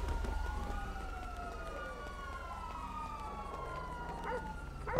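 Police sirens wail in Grand Theft Auto V during a shootout, several overlapping rising and falling tones held steady at moderate loudness over a low rumble throughout.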